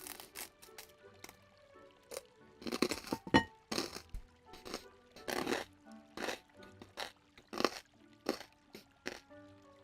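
Crunchy pizza being eaten in the video game Disney Dreamlight Valley: a rhythmic series of sharp, close crunching bites and chewing clicks with brief pauses between them.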